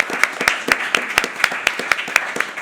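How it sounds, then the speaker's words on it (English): Audience clapping after a reading at a literary event about debut writers, a modest group applauding with distinct, fairly regular claps that stand out close and crisp rather than blending into a wash. "Can we have a round of applause for everybody?"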